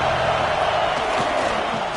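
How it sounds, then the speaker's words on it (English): Home crowd roaring in the stands at an American football game, a dense, loud, sustained wall of cheering and shouting with no pauses. "this home crowd is fired up and ready to make a difference today"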